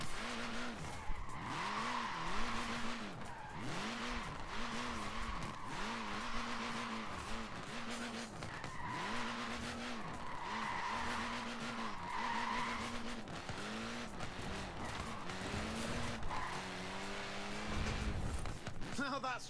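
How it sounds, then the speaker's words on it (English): Tires of a Mini skid and squeal in Forza Horizon 4 under a wavering engine drone, with repeated screeching bursts through the drive. "Look at that, laying down some rubber"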